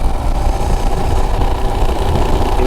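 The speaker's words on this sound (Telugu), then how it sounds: "బండి ఏదో తేడా కొడుతుంది." A motorcycle engine with a suspected fault and reduced pickup runs steadily at a low, throbbing idle, loud and close, with a faint uneven roughness and no talk.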